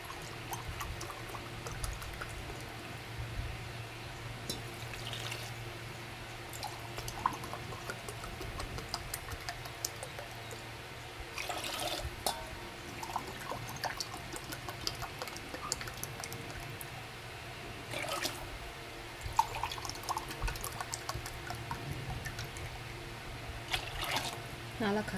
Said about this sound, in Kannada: 4 ಲೋಟ ನೀರು ಹಾಕ್ತಾ ಇದ್ದೀನಿ ನಾನು ಇದಕ್ಕೆ.